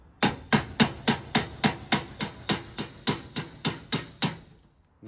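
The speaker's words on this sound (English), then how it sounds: "So I'm gonna go hammer that one again." Hammer blows on the tailgate of a 1975 Scout II: about a dozen sharp metallic strikes in a steady, even rhythm, close and loud with no talking.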